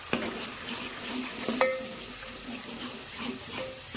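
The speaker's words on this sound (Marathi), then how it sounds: "चांगला मसाला भाजू द्यायचा तेल सुटेस्तोवर" Masala spices roast in hot oil in a pan: a soft, steady sizzle with occasional spoon scrapes and metallic clinks against the pan.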